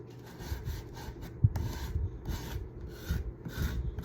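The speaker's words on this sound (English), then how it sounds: "It's a little finger sander." A small handheld finger sander rasps against wood farmhouse decor made from dollar-store pieces, a steady scratchy buzzing with uneven strokes and one sharp knock near the middle, close by and fairly quiet, with no talking.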